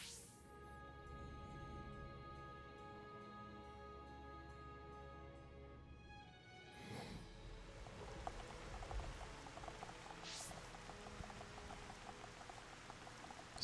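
Rain in the video game Xenoblade Chronicles: a steady hiss of falling rain and patter that grows fuller and noisier partway through, continuous and moderately faint with no talking.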